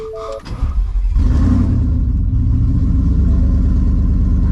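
A half-ton pickup truck engine revving up into a loud, deep, rough rumble that holds steady, close by with no talking.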